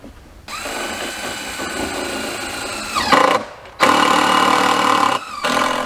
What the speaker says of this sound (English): we'll go ahead and use the green provided long screws to